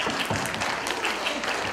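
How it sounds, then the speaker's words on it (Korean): Audience applause for a laughter-therapy comedian at a Korean event, dense clapping filling the whole stretch at steady volume with no voices over it. "힘찬 박수!"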